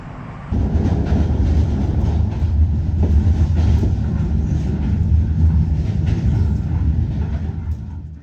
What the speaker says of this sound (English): take a train ride through the countryside to assess the flood damage